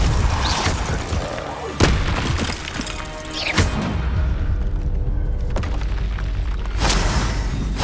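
Booming Confringo blasting-spell explosions in Hogwarts Legacy, several sharp blasts that ring out in a loud, dense battle din with a constant low rumble underneath.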